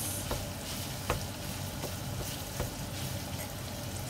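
Vegetables stir-fry in a pan with a constant soft sizzle, and scattered scrapes and taps of a utensil recur over it at a moderate distance, with no one talking.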